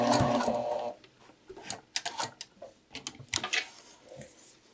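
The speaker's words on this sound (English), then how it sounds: "We can just stitch through the end there." A sewing machine stitches the end of an inseam pocket seam on muslin and then back tacks, a steady close whir at first giving way to short stop-start bursts of stitching.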